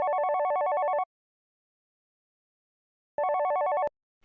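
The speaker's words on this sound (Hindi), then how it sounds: "लेकिन अब देखते हैं कॉल रिसीव करता भी है या नहीं करता है।" A mobile phone ringback tone for an outgoing call plays as two bursts of a bright warbling electronic ring separated by a long silence, clear and steady.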